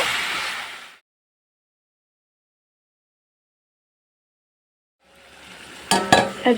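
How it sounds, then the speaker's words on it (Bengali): Meat with chopped tomato, salt, red chili powder and turmeric sautés in a pan, giving a close sizzle and stirring scrapes at the start and the end, with a silent gap in between. "পরিমাণ মতো লবণ লাল লঙ্কার গুঁড়ো হলুদ এবার সব কিছু দিয়ে সুন্দর করে কষিয়ে নেব"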